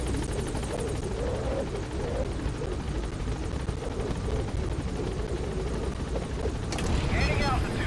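Helicopter rotor and engine in Metal Gear Solid V, a steady loud drone thrumming throughout while gaining altitude, with a brighter burst of noise near the end.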